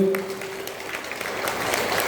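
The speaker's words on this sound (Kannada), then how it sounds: "ಅವರಿಗೆ ಎಲ್ಲರಿಗೂ ನಾವು ಎಲ್ಲರೂ ದೊಡ್ಡ ಚಪ್ಪಾಳೆಯನ್ನು ನೀಡಬೇಕು." An audience applauds at a Yakshagana performance by a women's troupe in Udupi, with dense, steady clapping throughout and a brief voice at the start.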